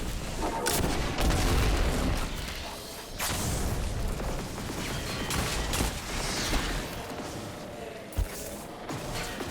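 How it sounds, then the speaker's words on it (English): A grenade blast and dense gunfire fill a Destiny 2 boss fight in a Legend Lost Sector, with loud continuous volleys, booms and crashing impacts and no pauses. "We'll just toss a grenade on the boss there real quick."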